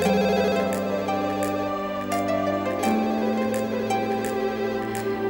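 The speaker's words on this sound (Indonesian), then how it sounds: "Jangan-jangan Tora yang telepon." A mobile phone ringtone plays loudly and continuously, a bright repeating electronic melody with rhythmic chiming accents over sustained tones, with no talking.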